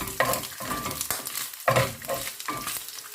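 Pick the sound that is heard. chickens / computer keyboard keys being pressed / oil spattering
oil spattering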